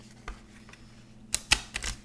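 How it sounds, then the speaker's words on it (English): Tarot cards, a small deck of swords, being shuffled by hand: a few light papery riffles and taps, with a flurry of crisp card clicks near the end, close and fairly quiet. "It's a pain to shuffle because it's so small."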